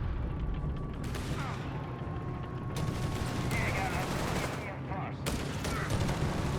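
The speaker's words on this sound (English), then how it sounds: "Grenades are being chucked, guns are being discharged." Battle sounds from Company of Heroes 3, with riflemen against Jaegers trading fire and grenades being thrown. Scattered shots and sharp bursts crackle at moderate distance over a dense rumbling background, with occasional mechanical creaks and clanks.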